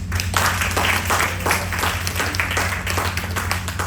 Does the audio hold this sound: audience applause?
yes